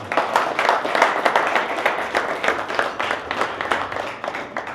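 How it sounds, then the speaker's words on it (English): A dinner crowd of men gives a round of applause, dense steady clapping from many hands filling the room at a fairly even level throughout. "Give them a round of applause"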